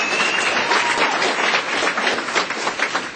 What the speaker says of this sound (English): How many mommies and daddies by applause?